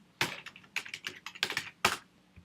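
A computer keyboard being typed on at close range: about a dozen crisp key clicks in quick, slightly uneven succession, alone without talk.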